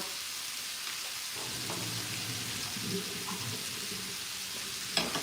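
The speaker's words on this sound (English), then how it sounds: "And I just want this to saute." Potatoes sautéing in a big pan, a soft steady sizzle with faint stirring scrapes and a sharp clink near the end, with no talking.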